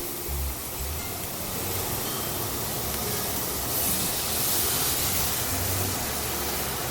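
Steady broadband sizzling hiss from a hot pan of chicken bread filling as milk goes in over onions, chicken and spices, continuous and close with slight swells, no voices.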